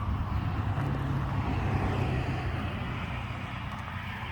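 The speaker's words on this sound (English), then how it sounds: "This property is right near a highway, so you can hear the car noises." Steady low rumble of car traffic from a nearby highway beside an olive ranch in Texas, a continuous distant wash of passing vehicles with no voices.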